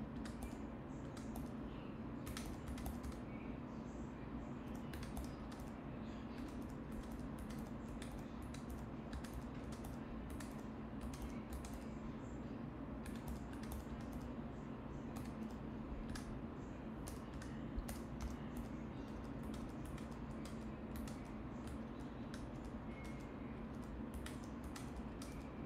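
Steady clicking of numbers being typed on a computer keyboard, close and continuous over a constant low background hum, with no talking.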